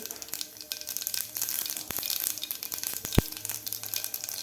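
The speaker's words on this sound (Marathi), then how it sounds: "तेल आपलं गरम झालेलं आहे तर यामध्ये घालायची आपल्याला अर्धा चमचा मोहरी अर्धा चमचा जिरे" Half a spoon each of mustard seeds and cumin sizzling in hot oil, a close, quiet crackle of rapid pops and one sharper snap.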